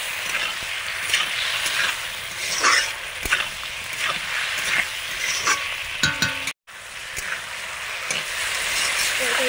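Arum stems and fried potatoes sauté in a curry with a continuous close sizzle and scraping stirs, plus a brief dropout near the end, and a dog barks faintly in the background.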